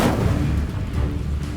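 Confringo blasting spell cast in the video game Hogwarts Legacy: a single heavy, booming blast that fills the moment, with a rumbling low tail and no voices.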